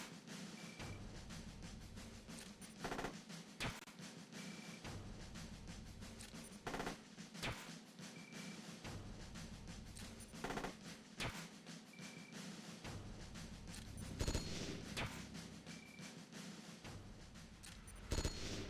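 RPG rounds fire repeatedly in Metal Gear Solid: Peace Walker, sharp broadband bursts recurring every couple of seconds over a steady droning game background, no talking.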